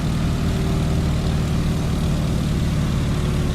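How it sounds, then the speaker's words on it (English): Steady, loud propeller drone of a Stearman biplane engine in a flight simulator game, a continuous even hum with a low throbbing pulse throughout, no voices. "I'll pull the propeller back to 1900 RPM"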